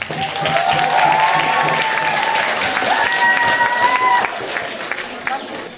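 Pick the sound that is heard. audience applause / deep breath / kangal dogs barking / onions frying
audience applause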